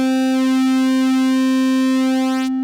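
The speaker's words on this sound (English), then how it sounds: "So let's take a look at Pulsewidth on the triangle." An A-111-6 miniature synthesizer voice plays a triangle wave with pulse width modulation: one loud, sustained, buzzy tone with rich harmonics, steady and alone, cutting off abruptly near the end.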